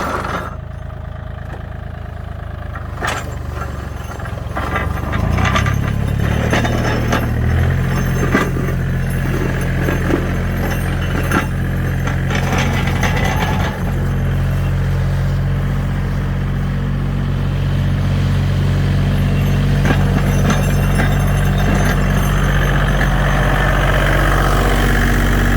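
A Japanese tractor works a rear-mounted, fully rotating snow grader blade 1.5 metres wide. It starts near-silent, a heavy engine swells in after a few seconds, and a loud steady diesel rumble follows with clanks and vibration.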